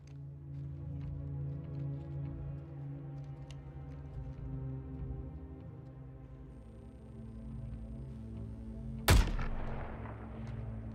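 A single loud gunshot fired in the Suicide Squad Kill the Justice League video game cracks out near the end, sharp and close, over a steady droning game soundtrack with no talk.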